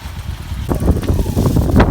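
A Bajaj Avenger 220 motorcycle idles steadily at high altitude on the cold road to Gurudongmar Lake in Sikkim, a close rumbling engine mixed with wind buffeting the microphone.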